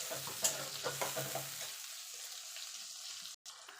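Tomato, green chili and ginger paste frying in spices for a rohu fish curry, with a brief stir and sizzle up front that thins out into a faint, steady crackle.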